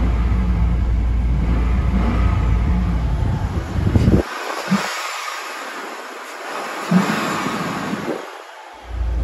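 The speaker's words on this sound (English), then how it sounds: "I'll do a rev test for you real quick." A Chevrolet Silverado LT 4WD pickup idles with a steady low rumble, then its engine is revved in a few sharp bursts that rise and fall back to idle, loud and close.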